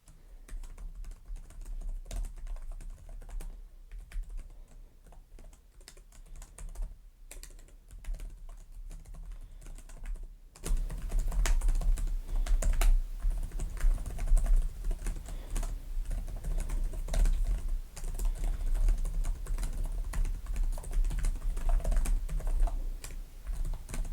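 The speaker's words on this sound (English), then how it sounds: "we'll just give a quick typing test here" Continuous rapid typing on a laptop keyboard, a close, busy clatter of keys that grows louder and denser partway through.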